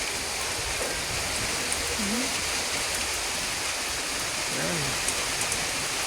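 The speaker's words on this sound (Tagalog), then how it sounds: "Ang lakas-lakas ng ulan, oh. Ang hangin-hangin, oh." Heavy rain with wind during a Philippine storm, a steady, loud rushing hiss of downpour throughout, with someone briefly speaking over it twice.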